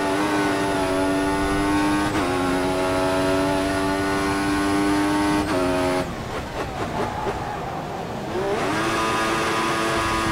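A Formula 1 race car engine in F1 2014 at Spa screams as it accelerates, its high whine climbing through quick gear shifts, then dipping briefly before rising again, loud and continuous.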